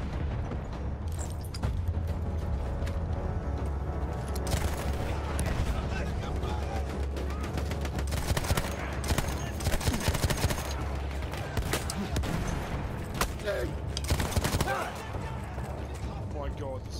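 Heavy gunfire in a Battlefield 1 battle, with dense, sustained bursts of shots and booms running nearly throughout, loud and continuous, peaking in rapid clusters, with game voices and explosions mixed in.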